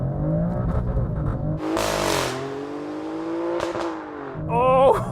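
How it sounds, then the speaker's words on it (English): An Alfa Romeo Stelvio Quadrifoglio 510hp SUV launches hard from standstill, its engine roaring up through the revs with a sharp gear change and then climbing again, loud and close. "I'm just going to launch it and find out."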